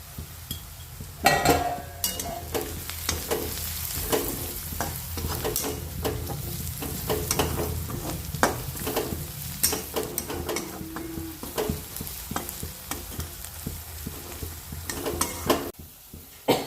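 Ground spices fry in oil for paneer bhurji while a spoon stirs and scrapes the pan, a steady sizzle cut by repeated clattering strokes against the metal, close and busy throughout with no voices.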